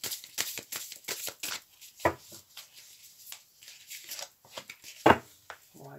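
Tarot cards shuffled and handled by hand, a run of short crisp riffling slaps and flicks up close, with a few sharper snaps near the middle and end.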